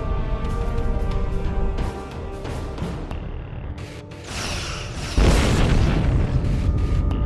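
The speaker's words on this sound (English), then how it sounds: "Target that ship and fire all weapons!" Starship weapons fire in Star Trek Online during a fight against an Undine planet killer, a run of booming, bursting blasts under a steady hum, growing louder and denser toward the end.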